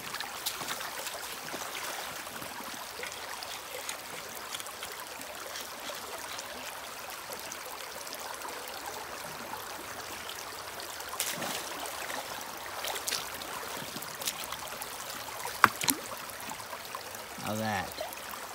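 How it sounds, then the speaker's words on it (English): Fast-moving stream water churning and trickling steadily at a gold prospecting dig in North Carolina, a continuous broadband wash with a few brief knocks and splashes near the end. "Water's moving a lot faster, and I can channel it the way I want to."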